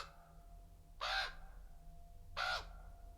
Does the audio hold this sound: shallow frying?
no